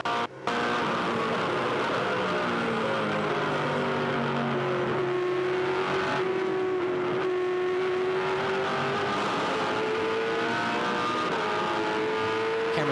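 V8 Supercar race cars, Jim Beam-liveried, howl down the straight at Albert Park, their engine notes rising steadily as they accelerate, loud and continuous with several cars layered together and no talk.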